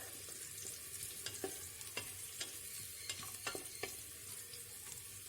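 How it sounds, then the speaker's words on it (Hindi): Onions frying in a pan for a dhaba-style chana dal, a steady soft sizzle with a series of sharp scraping stirs of the spoon at irregular intervals, fairly quiet and with no talking. "इसको मैं तकरीबन ब्राउन होने तक इसकी भुनाई करूँगी।"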